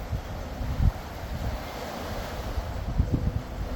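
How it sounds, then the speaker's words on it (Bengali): Steady sea wind with rolling surf at a Maldives island resort dining area, a continuous low rumble of waves and microphone-buffeting gusts, with a couple of louder surges, no voices. "সমুদ্রের হাওয়া সার্বক্ষণিক বয়ে চলছে"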